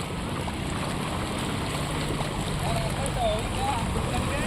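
Rainwater flowing along a road, a steady broadband rush of running water close by, with faint voices under it.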